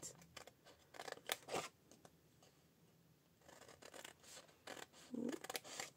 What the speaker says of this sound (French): on va couper sur nos petits plis